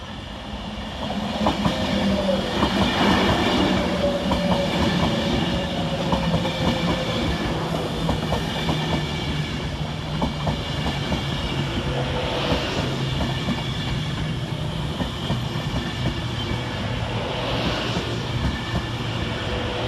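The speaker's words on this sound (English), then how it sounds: "Next into the station, running 22 minutes late, is 390020 with the 12:41 Avanti West Coast service from London Euston to Glasgow Central." An Avanti West Coast class 390 unit, 390020, pulls into Preston station on a London Euston to Glasgow Central service. A loud, sustained rumble carries steady clickety-clack from the wheels over the rails for the whole twenty seconds.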